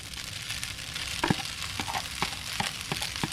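Peppers, onions and sausages fry in a pan with a steady loud sizzle, broken by scattered sharp clicks and scrapes of stirring throughout.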